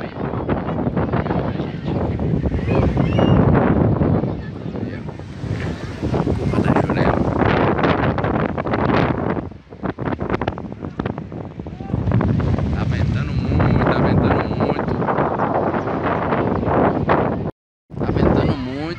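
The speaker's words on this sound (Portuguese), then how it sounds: "Tá ventando muito" Strong wind buffets the microphone in a constant low roar, with brief dropouts and a few faint voices underneath.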